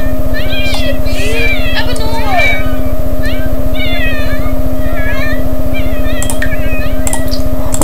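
Cat meowing in The Sims 4: several short, high game-cat meows repeat across the clip over a steady mechanical hum and ticking game background, with a voice talking beneath.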